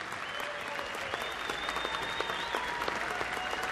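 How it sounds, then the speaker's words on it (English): A large crowd at Yankee Stadium applauds during a baseball game tribute, a continuous dense wash of distant clapping with scattered sharper claps, while a faint tonal sound drifts in the background. "Let's have a warm round of applause for the Lieutenant Colonel and all of our brave men and women"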